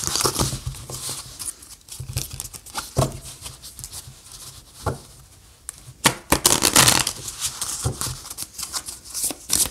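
Tarot cards shuffled by hand for a love reading, giving close, quick riffling and flapping bursts in uneven clusters, with brief pauses between them and no speech.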